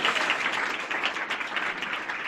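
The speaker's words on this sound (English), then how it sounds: "Give him a round of applause." Audience applause for a volunteer coming up on stage at a magic card show, a steady wash of clapping from many hands lasting a couple of seconds without talk.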